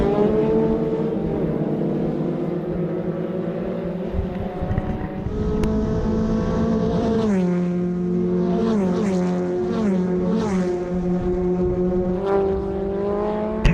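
Formula Vee race cars scream past at a circuit in East London, a steady loud engine drone with rising and falling pitch sweeps as several cars pass close by in sequence.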